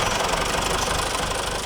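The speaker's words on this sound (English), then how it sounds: "he really enjoys driving the tractor" A tractor engine runs steadily with a rough, knocking idle and a continuous rhythmic vibration, loud and close, with no talking.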